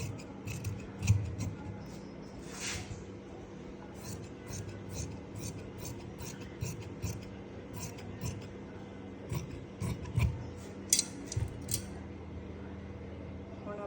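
Scissors cut lining fabric for a sleeve, giving intermittent close snips and slicing rasps in quick clusters with short pauses between them.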